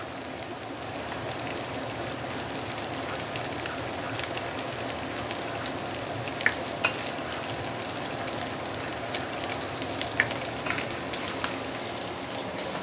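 Dried shrimp frying in hot oil for crispy chili, a constant soft sizzle dotted with scattered sharp pops and splatters, close and low in level.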